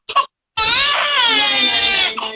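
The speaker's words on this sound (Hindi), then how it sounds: "बच्चा रो रहा है।" A baby cries loudly in a sustained wail lasting well over a second, preceded by a brief short whimper and a moment of silence.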